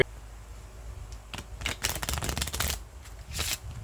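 A deck of ordinary playing cards is riffled several times in quick, crisp fluttering bursts, close and clear, with brief pauses between.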